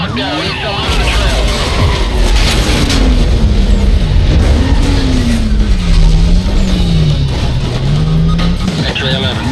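A police chase after a white Porsche in Need for Speed Most Wanted: a loud, steady roar of engine and tyres with a wailing siren-like tone sweeping up and down, and radio chatter from police dispatch running over it throughout.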